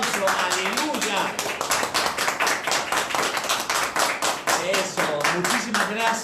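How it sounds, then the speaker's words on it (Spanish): A church congregation claps in a fast, steady rhythm, with many hands beating together at close range while voices call out over the clapping. "Vamos a darle un fuerte aplauso"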